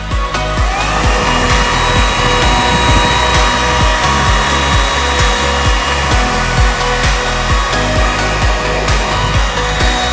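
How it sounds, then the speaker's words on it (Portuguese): A hair dryer drying fresh paint on a ceramic brick-effect vase, a loud, close, continuous blowing whir with a rough motor hum that holds steady throughout. "Eu vou só secar esse pedaço para mostrar para vocês."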